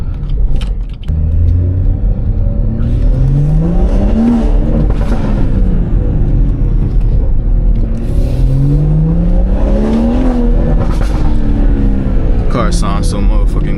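A loud BMW 440i's engine and exhaust roar up close inside the car, climbing through repeated revs and gear changes with a deep, rumbling tone throughout.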